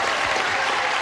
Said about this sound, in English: Now, stars, would you join me in greeting our players here with a brisk round of applause for Karna Bearstock and Michelle Groh.